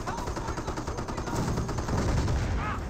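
A tank gun fires at a Sherman tank amid a Company of Heroes World War II battle, with the shot buried in steady, dense gunfire and rumbling explosions that keep going from start to end.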